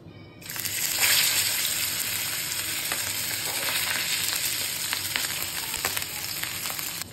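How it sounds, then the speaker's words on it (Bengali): Large hilsa fish pieces frying in hot oil in a pan, a loud, dense, continuous sizzle that swells in the first second and holds steady throughout, close by with no talk. "এখন আমরা ইলিশ মাছ ভাজা করব"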